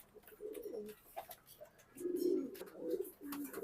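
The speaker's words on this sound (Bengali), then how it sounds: "নটটা দেখতে পাচ্ছেন খুব স্মার্ট এবং সে ডাকাডাকি করতেছে" A grizzle racing pigeon, a healthy running Afsan grizzle, coos close by in several throaty bursts: a short call, a pause, then longer, louder rolling coos.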